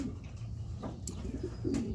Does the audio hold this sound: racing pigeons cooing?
yes